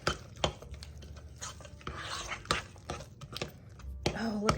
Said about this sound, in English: I'm gonna stir it around.